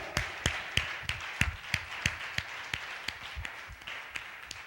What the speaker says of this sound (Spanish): El aplauso es para Cristo.